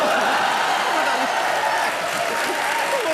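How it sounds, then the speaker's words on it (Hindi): Studio audience of a Hindi comedy show erupts in dense, loud applause, steady and continuous throughout, with some cheering voices mixed into the clapping. "ठोकताली"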